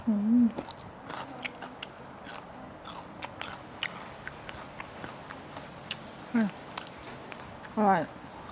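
Crispy fried garlic is bitten and chewed up close during a mukbang meal of spicy papaya salad with fermented fish sauce, giving sharp crunches at intervals between quieter chewing and mouth sounds.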